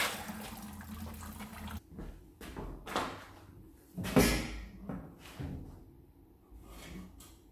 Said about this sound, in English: waiting on the coolant to drain so I can get the rest of the stuff out